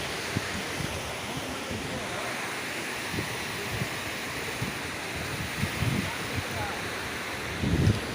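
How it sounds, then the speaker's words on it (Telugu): The Gunjana waterfall, which drops about 350 feet into a deep valley, gives a constant broadband roar heard from the top. Wind buffets the microphone and low thumps come in at intervals. "ఇక్కడ నుండి జలపాతం 350 అడుగుల లోతులోకి లోయలోకి పడుతుంది"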